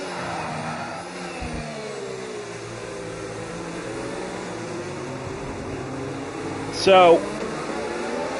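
Ferrari and Mercedes Formula 1 cars in a sim racing game at the Azerbaijan round hum steadily side by side through a turn, engine tones rising and falling under continuous race commentary.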